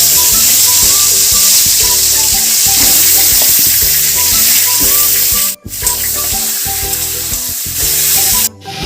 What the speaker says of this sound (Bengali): তেল গরম হয়ে গেছে এর মধ্যে আমি আলুগুলোকে লাল করে ভেজে নেবো